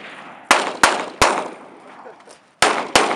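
Sharp single gunshots from a .45 pistol crack out in an uneven sequence of five, loud and close, at an outdoor shooting session, each followed by a short decaying echo.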